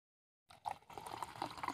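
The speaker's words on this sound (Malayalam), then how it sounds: "അപ്പോൾ നമുക്ക് സോഡ അങ്ങ് ഗ്ലാസ്സിലേക്ക് ഒഴിക്കാം." Soda for fuljar soda is poured into a glass after a short silence, giving a steady liquid fill with gurgling and splashing that builds and continues to the end.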